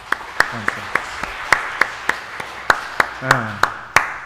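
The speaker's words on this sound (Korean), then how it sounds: "다시 한번 박수 한번 칠까요?" A church congregation at a Sunday worship service claps in unison, about fourteen sharp, evenly spaced claps in a steady rhythm, with a few brief voices murmuring underneath.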